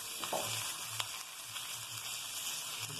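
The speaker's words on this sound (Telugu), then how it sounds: "కరివేపాకు వేసుకోవాలి. వేసుకున్న తర్వాత కొంచెం ఫ్రై చేసుకొని దీన్ని పక్కకు పెట్టుకోవాలి" Curry leaves frying in oil in a pan, a steady broad sizzle with scattered crackles and a few sharp pops, no voices.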